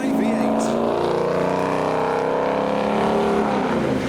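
Tuner cars drive and skid across a wet car show surface, their engines roaring loudly and rising in pitch as they rev up close, with a steady wash of tyre and spray noise.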